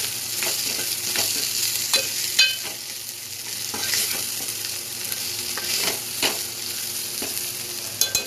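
Chili powder fries in a pan on low heat while making a spiny bitter gourd (boda kakarakaya) pulusu; a soft, steady sizzle runs throughout, broken by regular scraping strokes of a spoon stirring the pan.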